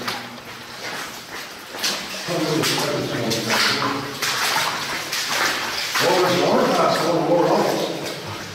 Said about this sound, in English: Water goes straight down.